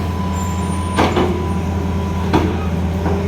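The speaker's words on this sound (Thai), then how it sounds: "นี่มาชมรถแมคโครตักดินกิเลนนะครับ" A large Hitachi excavator, around a 210 size, works at a land-filling site, its diesel engine humming steadily up close with a couple of sharp metallic knocks and hydraulic bursts from digging.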